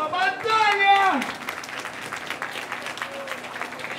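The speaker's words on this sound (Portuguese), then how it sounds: "Palmas na batalha!" A crowd at a freestyle rap battle bursts into applause and cheering right after a loud voice shouts over the stage, the clapping continuing as a dense, steady wash of noise.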